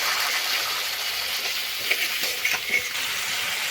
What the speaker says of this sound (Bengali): অল্প একটু জল দেব শুকনো মশলাটা কষার জন্য